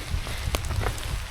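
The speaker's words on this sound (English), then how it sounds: "Today, as you can see, it is raining." Steady rain on the Appalachian Trail near Big Meadows Lodge, a dense, even hiss with soft low rumble and a few sharper drops pattering close by, no voices.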